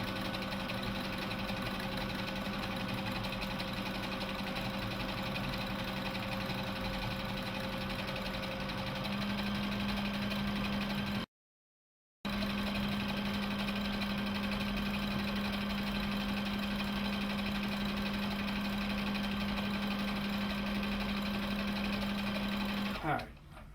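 Combo sewing and embroidery machine with a 4x4 hoop running with the pedal down, a steady close mechanical hum and rapid stitching drone, briefly cutting out midway before resuming, then stopping at the end.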